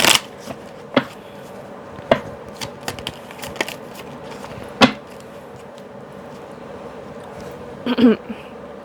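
Angel oracle cards shuffled and handled during a card reading, with soft papery riffles and sharp slaps and taps spaced irregularly through the clip, close and fairly quiet.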